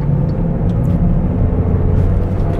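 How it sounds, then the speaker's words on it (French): A Peugeot 206 RC with 177 hp pulls away from low revs in third gear. Its engine gives a loud, steady, deep rumbling drone from inside the car, with no talk over it. "Alors on repart en 3 en bas, en 3 en bas régime, ça repart très bien."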